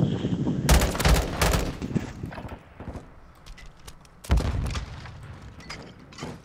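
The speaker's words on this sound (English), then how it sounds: "Oh, hit marker, the machine gun." Machine gun fire rattles in a video game, with two loud, rapid bursts of gunshots and quieter scattered shots between them.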